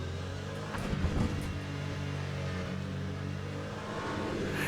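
A hypercar engine in the racing game Le Mans Ultimate drones and revs under acceleration, a fairly quiet, steady mechanical tone with a few brief bumps and no talking.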